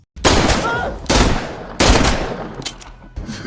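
Gunfire in a tense film shootout: several sharp, loud bursts of shots come in quick succession, each followed by a short echoing tail, with quieter clatter between them.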